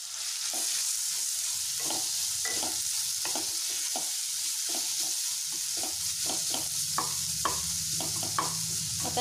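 Grated pumpkin pieces fry in hot oil for bhoplyache gharge, making a steady, dense sizzle close by. Soft stirring scrapes and taps come at irregular moments over the constant frying, with no talking.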